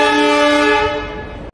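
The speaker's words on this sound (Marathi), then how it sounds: "फायनली ट्रेन आलेली आहे" A train horn sounds loud and near as a train pulls into a station, one sustained chord-like blast that fades slightly before cutting off, with no talking.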